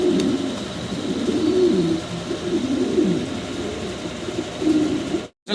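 Pigeons at a fancy-pigeon seller's loft coo in steady, repeated throaty rolls close by, the soft warbling continuing almost without pause before a brief cut near the end.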